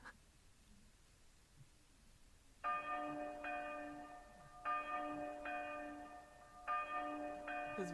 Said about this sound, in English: His words ended with the toll of the church bell signaling the coming of the event in Berlone.